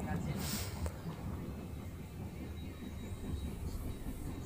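A Logawa passenger train rolls along the rails, a steady rumbling cabin noise with a brief hiss near the start, heard from inside the carriage.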